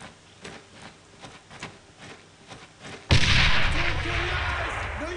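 Gunfire in the WWII shooter Brothers in Arms: Road to Hill 30: scattered sharp shots over a quiet stretch, then a sudden loud, dense burst of sustained firing and battle noise that fills the rest, with faint voices mixed in.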